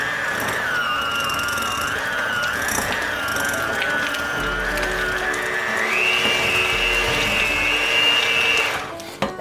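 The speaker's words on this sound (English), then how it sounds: "we're just gonna cream this until we get a really nice creamy consistency" An electric hand mixer's beaters whir steadily through cream cheese in a bowl, a continuous mechanical buzz with a rattling edge whose pitch rises partway through before the motor cuts off at the end.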